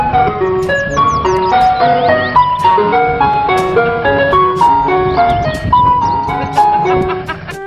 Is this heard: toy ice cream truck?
yes